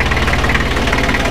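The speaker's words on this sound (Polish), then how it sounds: "Klepie elegancko. Trzycylindrowy silnik." An air-cooled three-cylinder diesel engine on a 1965 Deutz D 40 tractor with a Bosch injection pump idles close by, a loud, steady, rhythmic knocking chug.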